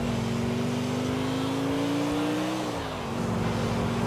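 Car engine in the video game GTA IV, a steady, loud drone held at near-constant pitch, rising slightly and then dropping briefly as the driver eases off before holding steady again.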